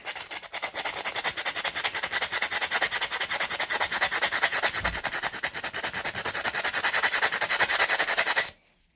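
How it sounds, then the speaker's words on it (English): Sandpaper is rubbed back and forth against an old brass valve in fast, steady strokes, a close, dense scratching that runs continuously for about eight seconds and then stops abruptly. "I'm just using an old brass valve. I'm just going to use some sandpaper here."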